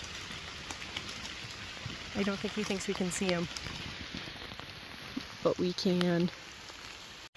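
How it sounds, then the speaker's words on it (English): Rain falling on a hiking trail during a backpacking trip, a steady soft patter throughout, with people talking quietly over it. "Ah, this makes me love the rain."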